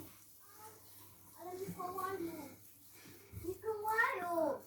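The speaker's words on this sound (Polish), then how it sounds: "Dzieci się bawią w Mikołaja." Young children's voices chatter and babble quietly at a distance, in short bursts separated by brief pauses.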